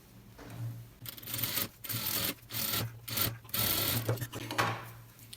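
A sewing machine stitches a blouse sleeve in a series of short, rhythmic whirring bursts broken by brief gaps, fairly close and steady in loudness.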